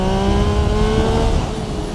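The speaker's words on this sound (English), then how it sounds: "So if we pop it down to second gear and do a bit of a clutch wheelie" Yamaha MT-09 SP Gen 3 motorcycle accelerating hard in second gear for a clutch wheelie, a loud, close engine note rising steadily in pitch with a sustained droning roar.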